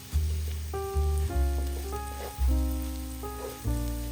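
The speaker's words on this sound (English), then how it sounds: "Add in the crushed garlic, and you'll saute that for another 30 seconds to a minute." Steady sizzling of crushed garlic sautéing in a hot pan, with repeated low thumps and tonal clinks from cookware layered over the crackle.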